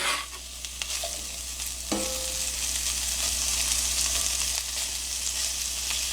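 Pork sizzles loudly in a preheated skillet, a continuous crackling hiss with occasional scrapes and pops as it is stirred.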